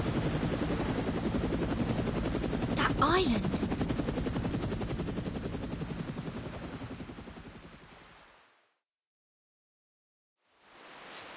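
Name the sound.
helicopter flying in video game Reverse: 1999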